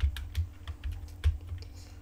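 A computer keyboard is typed on in a quick, uneven run of close, crisp key clicks while writing web development code, with no talking.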